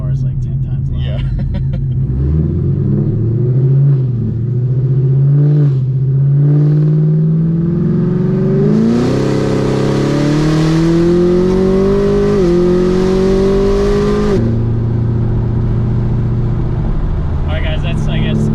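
A 2018 Camaro ZL1 with Kooks long tube headers and no mufflers, its loud exhaust rumbling at idle and then revving up in rising pulls that climb and hold before dropping back, heard close with voices talking over it.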